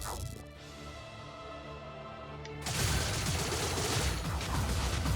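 Bubble Barrage spell in the game Wizard of Legend, a tonal chime fading out, then a sudden dense burst of rapid popping, crackling hits that holds loud and busy to the end.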